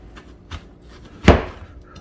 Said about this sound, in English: Quarter the radish so we can stand them upright.